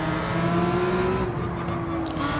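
Lamborghini race car in Gran Turismo 7 during a daily online race, its engine droning at a steady high pitch with gradual shifts in tone, loud and continuous.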